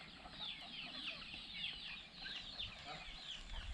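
Chickens cluck and chatter continuously in the background on a poultry farm, a busy, faint flock sound with no talking.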